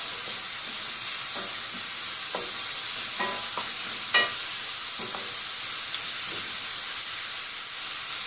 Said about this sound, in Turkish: küp küp doğradığım sivri biber ve kuru soğanı ilave ettim ve şu anda şöyle pembeleşmeye devam ediyor